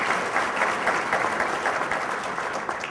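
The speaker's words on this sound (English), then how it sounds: "Let's give her a round of applause." An audience applauds steadily after the national anthem at a veterans' breakfast salute, dense clapping filling the whole stretch at close range.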